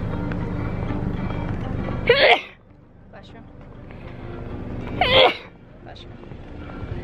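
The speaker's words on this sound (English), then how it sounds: "I have to sneeze." Two sharp sneezes, about three seconds apart, burst out close by over a steady low rumble of traffic or wind.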